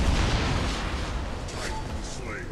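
Robots trade heavy gunfire in the mech battle game War Robots: a dense, continuous roar of booming shots and blasts fills the whole stretch, loud and close, with voices mixed faintly underneath.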